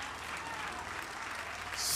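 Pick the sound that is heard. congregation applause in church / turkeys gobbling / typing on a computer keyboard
congregation applause in church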